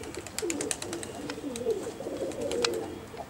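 Kalsara pigeon cooing in a loft, a steady low burbling coo that rises and falls throughout, with faint clicks and chirps from other birds in the background.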